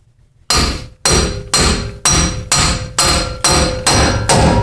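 Eight sharp, loud hammer blows ring out in a steady rhythm, each about half a second apart, close by and with no voices, during a leveling kit installation on a 2013 Ram 1500.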